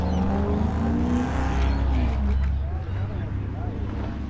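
A Perentti sports car drives past on a road, its engine a loud, close, steady rumble that swells and then eases as it goes by. A person talks excitedly over the passing car.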